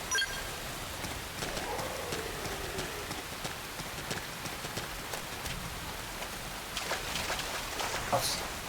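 Steady rain falling in the video game Xenoblade Chronicles X, a dense continuous patter with game sounds and occasional sharp effects mixed in, at moderate loudness throughout.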